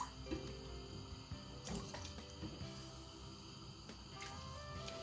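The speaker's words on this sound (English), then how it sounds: "I'm just going to add water for boiling the mackerel fish" Water runs from a tap into a cooking pot for boiling mackerel, a quiet steady gush with occasional clinks, fairly faint and close, no speech.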